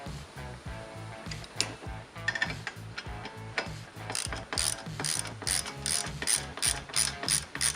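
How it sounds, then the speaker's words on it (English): Ratchet wrench tightening the top clamps on a Jeep JKU rear harness bar, a steady, rapid clicking of the pawl in even strokes, close and clear with no talking. "Install both top clamps hand tight before tightening fully."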